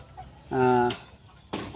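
A native hill-country chicken gives a single short, tonal cluck close by, followed by a quiet pause and a brief rustling scrape.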